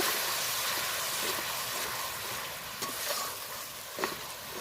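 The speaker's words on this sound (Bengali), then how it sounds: "অল্প করে জল দিয়ে আমি মশলাটা আবারও কষা কষাবো কষিয়ে কষিয়ে একদম জল শুকিয়ে নেব" Bengali spice paste with a little water sizzles and fries in a pan while being stirred, a loud, continuous close crackle with occasional scraping strokes.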